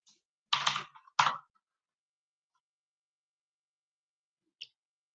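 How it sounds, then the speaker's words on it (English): Two short bursts of quick keystrokes on a computer keyboard, close and crisp, followed by a long quiet stretch and one last faint click. "So if I type in hi"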